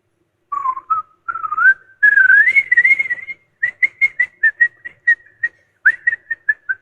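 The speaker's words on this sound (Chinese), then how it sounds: "最近我在练习吹口哨，给你们吹口哨吧" A person whistles a tune solo, clear and close: a sliding, held melody at first, then a run of short, evenly spaced staccato notes, with no talking.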